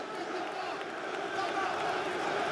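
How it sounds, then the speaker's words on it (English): A French crowd at a PFL MMA fight in Paris roars continuously behind a commentator's voice, the cheering swelling slightly toward the end. "You can hear the French crowd getting behind their local fighter here."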